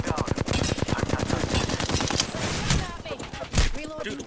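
Rapid automatic gunfire in Apex Legends rattles in a dense, loud burst throughout, with a few sharper shots near the end.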